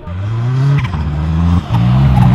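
A Ferrari 488 Challenge race car engine revs loudly and steadily on track, dropping briefly between gear changes before climbing again.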